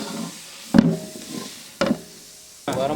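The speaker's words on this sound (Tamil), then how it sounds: "கடலப்பருப்பு போட்டுக்கிறோம்." Chana dal dropped into hot oil with mustard seeds and urad dal in a pan, giving three sharp sizzling bursts that settle into a steady crackling hiss, close and clear.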